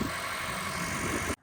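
A stick-shift car's engine idles steadily and close by, a smooth, even low rumble that cuts off abruptly just before the end.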